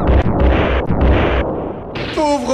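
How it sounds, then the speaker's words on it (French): A boss vehicle blows up in a Teenage Mutant Ninja Turtles video game: a few loud, punchy blasts in quick succession, then a brief gap and a high electronic tone-like burst at the end. "il explose."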